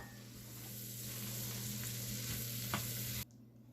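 Chopped vegetables soften in hot bacon grease in a pan, giving a faint, steady sizzle with a soft scrape of stirring, before the frying sound cuts off abruptly just before the end.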